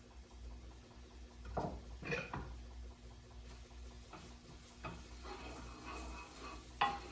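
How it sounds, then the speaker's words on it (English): Shallots sautéing in a pan, a low continuous sizzle with a few sharper spoon scrapes and stirs scattered through, close but fairly quiet, no one speaking. "You're going to want this to cook until it's fragrant and the shallots are translucent."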